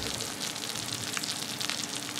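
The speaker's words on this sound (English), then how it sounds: "You can still see it sizzling as well." Steady crackling sizzle of mac and cheese in a baking dish, close and continuous, with dense popping spread across the whole short stretch and no voices.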